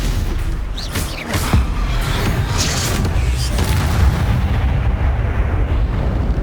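Spell blasts and explosions in the Hogwarts Legacy video game, loud and dense booms bursting repeatedly over a continuous rumble, with a voice calling out between them.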